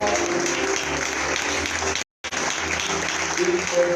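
A church congregation at a conference plenary applauds and cheers for Jesus, dense sustained clapping and crowd noise filling the room, broken by a brief drop-out, with voices mixed in.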